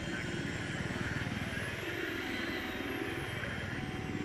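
A helicopter flies in the shooter game Battlefield 3, its rotor and engine giving a steady, loud choppy whir that holds evenly throughout, with no clear talk over it.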